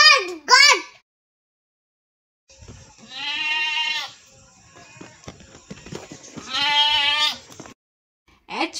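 A goat bleats in two long, wavering, fairly loud calls separated by a short pause, with brief snippets of a spoken or sung voice before and after.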